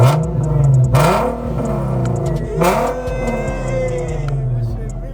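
An Infiniti Q50 revs hard at a car meet, its engine rising and falling in loud, close bursts while excited voices shout and talk over the noise.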